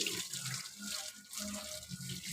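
Water runs steadily from a tap while a dog is bathed, a close, continuous splashing rush with small shifts in flow.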